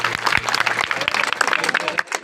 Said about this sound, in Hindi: जोरदार ताली बजाओ एक बार